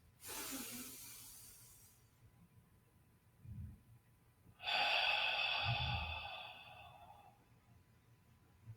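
Slow, deep breaths during a guided breathing exercise: a long hissing inhale, a pause, then a second drawn-out breath that fades gradually, close and quiet with soft low sighs, with no talking.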